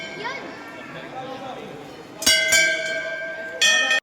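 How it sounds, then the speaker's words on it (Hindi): Two bright metallic Hindu temple bell strikes ring out and linger, following a stretch of background chatter and footsteps at the Dadadev temple. "ये देखो सब घंटी बजाए जा रहे हैं"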